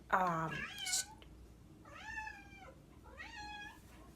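A house cat meows indoors, with one loud, close cry followed by two softer drawn-out meows spaced about a second and a half apart.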